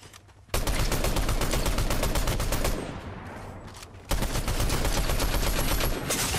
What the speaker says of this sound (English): I got sniped. Headshot snipe.